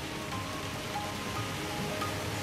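Heavy monsoon rain falling steadily in Bhandara district, Maharashtra, a dense, even hiss with no breaks or other sounds, faint and constant throughout.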